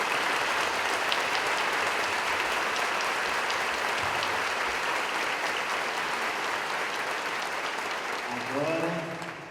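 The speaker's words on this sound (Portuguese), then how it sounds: "Toda a nossa comunidade, Santo André, lhe recebe com uma salva de palmas." A church community, Santo André, gives a long round of applause to welcome a priest, thick sustained clapping from many hands, with a voice beginning to speak as it fades at the end.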